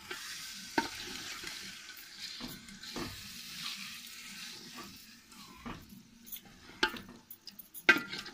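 Intermittent scraping and clanking of a utensil stirring potato and drumstick curry with added water in a pot over a low sizzle, with several sharper knocks toward the end.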